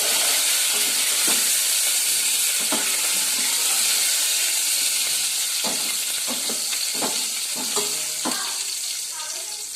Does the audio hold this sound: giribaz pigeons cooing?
no